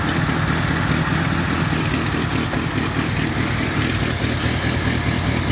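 A 1985 Toyota Tercel wagon with a carbureted engine idles close by while its ignition timing is being adjusted, a steady low rumble with a fine rhythmic pulsing and vibration that holds constant throughout, with no voices.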